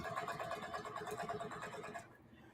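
A sewing machine with a table for heavy fabrics runs in a steady, rapid chugging rhythm at moderate level, stopping abruptly near the end.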